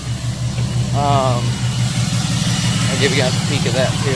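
A 2008 Cummins 6.7L diesel pickup idles with its exhaust brake on, a steady low rumble running throughout while someone talks over it nearby.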